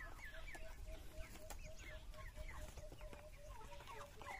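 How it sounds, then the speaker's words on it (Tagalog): A farm chicken on a rural Philippine smallholding clucks repeatedly in short, moderately soft calls over steady outdoor background noise, with other fowl faintly audible nearby. "Pinakamabait na manok."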